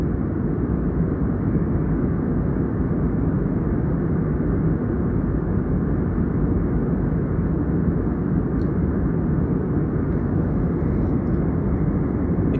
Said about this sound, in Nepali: कति स्पिड उडेको छ यो प्लेन हामीले नि कल्पना नि गर्न सक्दैनौँ